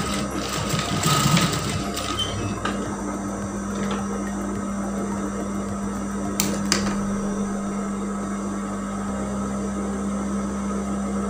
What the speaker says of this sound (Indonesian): Nah, bagian ini kita jahit dulu.